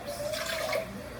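Water is poured into a pot for boiling pasta in a home kitchen, a brief, close, steady splashing flow that lasts about a second.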